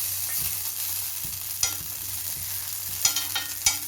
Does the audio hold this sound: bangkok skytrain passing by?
no